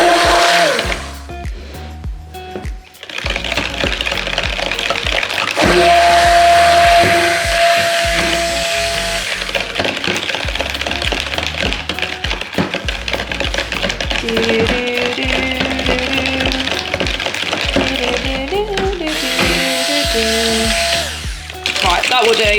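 An electric blender whirs steadily and loudly, nearly nonstop, churning thickening blue-tinted soap batter for a Caribbean Smoothie soap bar, with brief pauses and a busy, tonal layer underneath.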